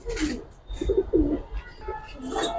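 Khaki pigeons coo in soft, low rolling phrases, close by and repeated, with a faint background murmur.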